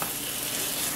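Crushed garlic is stirred into a hot frying pan, giving a steady, loud, even sizzle that continues without a break.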